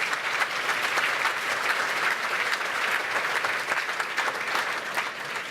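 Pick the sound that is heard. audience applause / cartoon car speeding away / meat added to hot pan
audience applause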